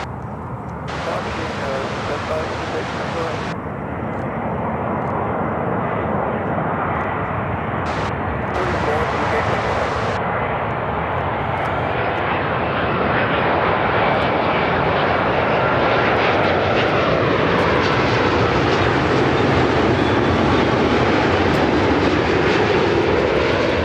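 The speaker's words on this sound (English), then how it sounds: "Royal Jordanian 787-8 Dreamliner in Discover Petra livery." A Royal Jordanian Boeing 787-8 Dreamliner jet at Chicago O'Hare, its engines roaring loudly and swelling steadily as it passes close by, with a voice talking over the noise.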